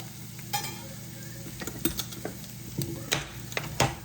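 Whisk working through potatoes in a too-small bowl, with a series of irregular scraping and clinking strokes against the bowl over a steady background hum, close and fairly loud.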